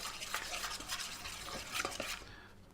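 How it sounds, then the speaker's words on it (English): A spoon mixing soy sauce and a seasoning rub into a marinade for honey-glazed drumsticks, quiet continuous swishing and light scraping against a bowl, close but faint, no voices. "I need a spoon. There we go. Just going to mix this up."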